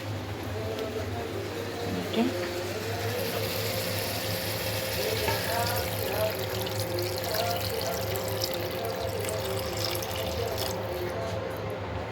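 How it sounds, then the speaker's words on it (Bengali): Water pours and trickles steadily into a pot, a soft continuous splashing with a low hum behind it and faint voices. "এবার পানি দিয়ে দেবো"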